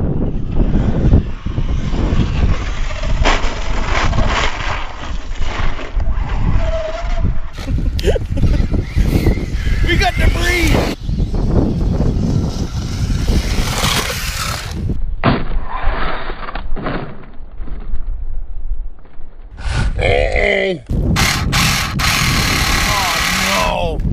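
Traxxas Slash RC car bashing hard outdoors until its old drive shafts break, a loud continuous buzzing whine with sharp impact bursts and gaps, people talking and shouting over it throughout.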